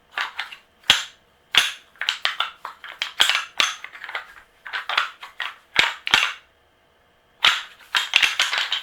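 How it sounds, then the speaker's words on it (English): Dried deer antlers clash and grind together in hunting-style rattling, sharp woody clacks and scraping bursts in quick irregular runs, close and loud, with brief pauses between sequences and one longer gap before the final flurry. "They're a little bit higher pitched, like a more dried out antler. These have been dried out for several years."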